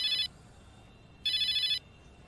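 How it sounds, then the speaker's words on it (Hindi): An electronic phone ringtone sounds in two short bursts about a second apart, fairly clear over a quiet background. "आपका फोन बज रहा है।"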